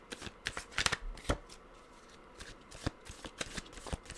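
Tarot cards being shuffled by hand, a series of close, crisp riffling flutters and soft slaps in irregular bursts with brief pauses between.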